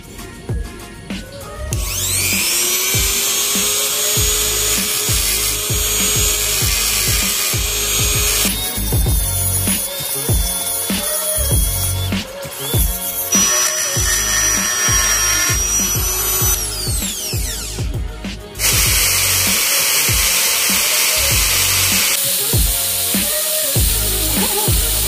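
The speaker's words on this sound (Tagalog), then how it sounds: "Gagamitin natin ng grinder." An angle grinder cuts a motorcycle outer fork tube, a Raider 150 part, with a loud, sustained high whine and gritty grinding that pauses and restarts several times, heard close up with no talk.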